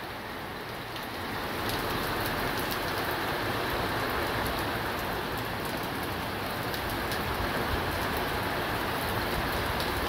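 Heavy rain pours during a violent thunderstorm with hail. It is a dense, continuous hiss that grows louder after the first second, with faint crackles, and no talking.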